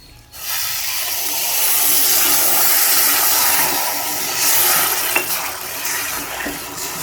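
Water pours steadily into a pan of sugar for sweet boondi syrup, a broad hissing splash that swells and then eases off a little, close by with no talking.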